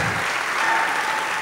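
Loud, sustained clapping from a gala crowd, thick and even from start to finish, with a faint voice and room murmur barely showing beneath.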